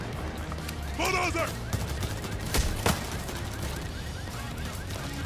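Gunfire during a bank heist in the video game Payday 3, rapid bursts and scattered shots crackling over a busy mix of game sounds and alarm-like tones, moderately loud and close.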